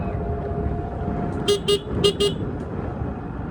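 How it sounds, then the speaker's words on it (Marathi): A Bajaj Chetak electric scooter horn beeps four times in two quick pairs, short thin toots over a steady low road rumble. "गाडीपेक्षा हॉर्न जास्त आवाजाच देतोय असं वाटतंय मला"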